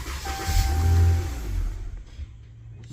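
A 2015-or-later Dodge Charger, Challenger or Chrysler 300 cranks and fires up, its engine briefly revving loud and close before settling back into a quieter idle.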